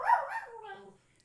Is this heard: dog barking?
yes